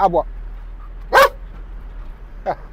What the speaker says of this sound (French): Ah oui, c'est un chien qui aboie